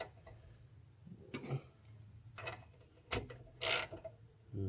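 A 13 mm socket wrench ratchets on the rear brake bolts of a Land Rover Discovery D2 TD5. Short bursts of quiet mechanical clicking come at irregular intervals, close by in a hushed setting.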